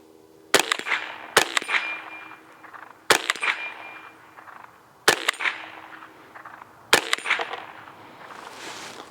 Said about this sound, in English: So we had 5 shots there